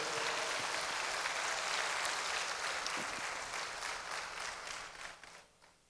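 A church congregation applauds at a Baptist Missionary communion service, steady dense clapping throughout that gradually thins and fades toward the end.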